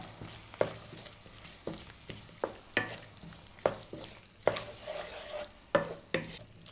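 Soy sauce and green chilli sauce being stirred in a pan for dry chilli chicken: a steady soft sizzle broken by about a dozen sharp spoon scrapes and knocks at irregular intervals, close and clear, with no talking.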